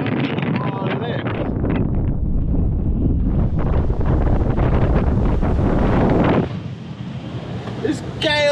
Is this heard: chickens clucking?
no